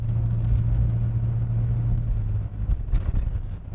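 A 1967 Pontiac GTO engine idles with a deep, steady low rumble close by, loosening into a rougher, uneven burble near the end.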